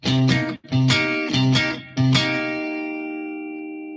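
A guitar strums a turnaround on the five chord in short rhythmic bursts, four choppy syncopated hits, then lets the last chord ring out and slowly fade.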